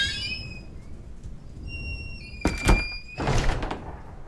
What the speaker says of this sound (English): Bolting the door